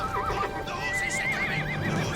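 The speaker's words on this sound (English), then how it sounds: "Sire, look there! A score of horses!" Several horses neigh and whinny in a radio drama sound effect, wavering calls rising over a steady background of hoofbeats, loud and continuous.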